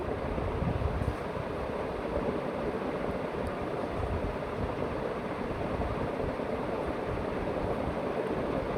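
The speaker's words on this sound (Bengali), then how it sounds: "কই মাছগুলো ভাজা হয়ে যাচ্ছে" Koi fish fry in a pan with a steady, hissing sizzle that holds at a constant level, close and uninterrupted, without any talking.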